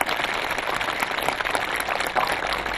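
Participants at a ceremony in North Korea, where housing permits are handed to flood-affected residents, applaud warmly; a dense, steady wash of clapping from a crowd fills the whole stretch without voices on top.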